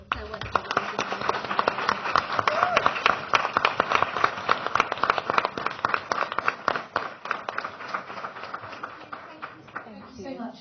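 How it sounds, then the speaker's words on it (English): An audience claps continuously, a dense, even patter of many hands that holds steady for about ten seconds before tapering off at the end. "give us a very special round of applause for Aisha"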